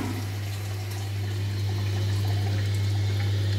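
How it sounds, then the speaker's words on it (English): A toilet flushing straight after a Siamp inlet valve replacement, heard as a steady, loud rush of water pouring and filling the cistern close by, continuous through the whole moment with no talking. "I'll just do a quick flush."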